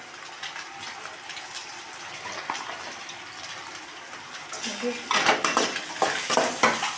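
Chopped capsicum stir-fried with beans and carrot in a pan, a soft sizzle under scattered scraping that turns into loud, rhythmic spatula strokes against the metal toward the end.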